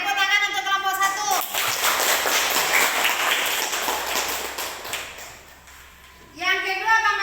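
Several seconds of scattered clapping from a group of children in a classroom, fading out, framed by a teacher's voice talking before and after.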